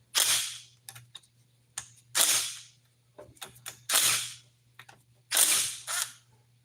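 An impact wrench with a 6-point socket removing nuts from a Honda CR80 engine, in loud close bursts of rattling hammering separated by short gaps and small clicks, over a low hum.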